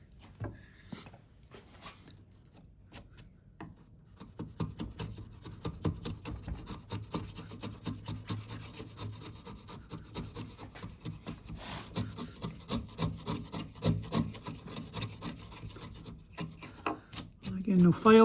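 Hand saw cutting wood for a bridle joint, a steady run of rhythmic rasping strokes close by, starting sparse and quiet then settling into a regular back-and-forth sawing pace.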